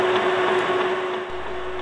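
An ME250 lathe spindle runs at 240 RPM, giving a steady mechanical whir with a constant tonal hum, close and fairly loud, with a slight drop in low rumble partway through.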